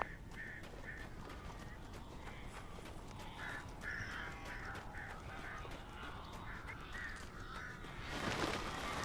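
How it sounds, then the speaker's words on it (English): Crows caw repeatedly in a dark, eerie game world in Alan Wake, a steady series of harsh calls over a rustling ambient bed, ending in a louder burst of noise. "These birds are weird."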